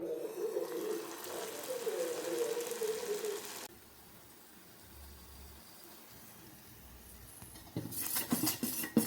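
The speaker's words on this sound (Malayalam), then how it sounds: "നമുക്ക് ഈ ചട്ടിക്കിടാം. Come on baby, പൊരിച്ചിടാം." Donut dough drops into a pan of hot oil and fries with a loud, steady sizzling hiss that fades to a quiet bubble after a few seconds, then flares into a fresh burst of crackling sizzle near the end.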